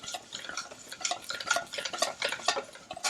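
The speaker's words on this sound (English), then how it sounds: "just take a little whisk out and whisk that up real quick" A small whisk beats chocolate lava cake batter in a bowl, a fast run of rhythmic scraping clicks against the sides, close and steady with no talking.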